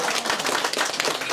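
Guests applaud at a Cantonese wedding tea ceremony, a dense, steady burst of many hands clapping close by that fills the whole moment without pause.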